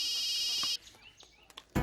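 A phone rings indoors with a steady, bright electronic tone for under a second, then cuts off to near-quiet room sound before a short loud burst at the very end.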